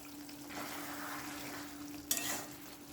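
Paneer curry with chopped coriander and sugar is stirred in a pan, giving a soft continuous sizzle with a steady hum, then a sharp scrape of the spoon against the pan near the end.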